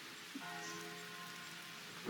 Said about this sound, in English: The rain became heavier that afternoon, accompanied by rolling thunder now and then.